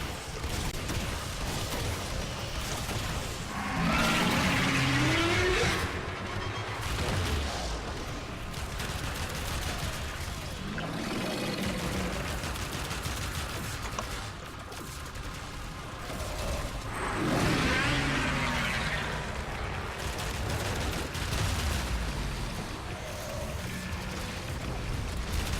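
Pyrana Prime shotgun firing in the Warframe video game during a fight with an Eidolon, bursts of loud gunfire and mechanical clatter repeating in waves over a busy, continuous background of game effects.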